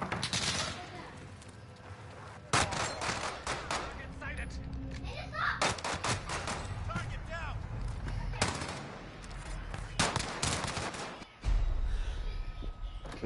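Gunfire rattles through a Warzone match in repeated loud bursts and volleys, some rapid like automatic weapons and others single sharp shots, spread across the whole stretch.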